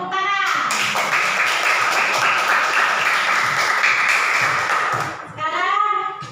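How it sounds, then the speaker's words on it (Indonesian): Applause from a classroom audience, a dense patter of many hands clapping at once, loud and steady for about five seconds before tapering off, with voices speaking at the start and again after it fades. "Iya, tepuk tangan."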